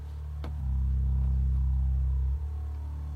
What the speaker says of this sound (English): it's the bass line.